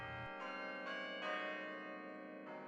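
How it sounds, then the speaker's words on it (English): The McGraw Clock Tower chime bells at Cornell in Ithaca, New York ring out in overlapping strikes, each chime sustaining and decaying into the next, with a steady humming background. "the tolling chimes in the McGraw Clock Tower have provided a reassuring heartbeat to campus life"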